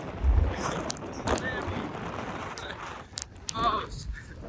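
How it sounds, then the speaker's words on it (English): Strong wind buffets the microphone in a steady, rumbling roar, with a few brief clicks and faint voices underneath. "It's so windy."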